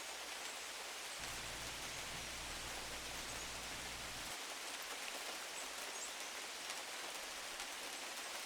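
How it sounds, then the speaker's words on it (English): Steady, even hiss of rain falling on the ground, continuous and soft throughout with no distinct drops standing out and no voices. "That subtle and comforting sound as tiny droplets fall from the heavens to end up colliding with the ground."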